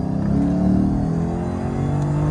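Lexus ISF sedan with a muffler delete and aftermarket tips, a loud, close, deep exhaust rumble held steady at idle with a slight swell in revs.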